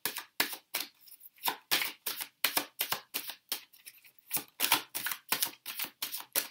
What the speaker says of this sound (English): I'm just going to shuffle and get hopefully two more cards out.